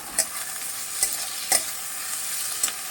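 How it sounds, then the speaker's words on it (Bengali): Cashews, raisins and tomato fry in a pan with a steady sizzle, punctuated by four sharp, close spatula scrapes against the metal at uneven intervals; no voices. "কাজু কিশমিশটাও দিয়ে দিলাম আমি এবার একটু ভালো করে ভেজে নেব যাতে টমেটোর কাঁচা গন্ধটা না থাকে"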